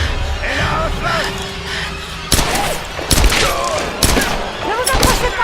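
Gunfire rings out in the Tomb Raider video game: sharp bursts of shots hit at intervals over a bed of game ambience. Voices from the game talk around them.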